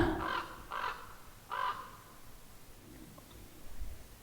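A raven caws three times in quick succession, harsh and fairly close, followed by a faint quiet stretch with soft clicks, no speech over it.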